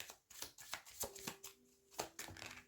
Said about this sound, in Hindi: तो मैं एक और निकाल लूँगी।